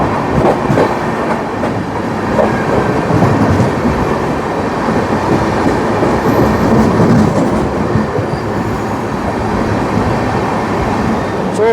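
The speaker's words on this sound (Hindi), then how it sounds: "ये है बाबा बैद्यनाथ धाम देवघर हमसफर एक्सप्रेस।" The Baba Baidyanath Dham Deoghar Humsafar Express, an Indian passenger train, rushes past up close on a parallel track, a continuous loud roar of wheels and carriages with rhythmic clatter throughout.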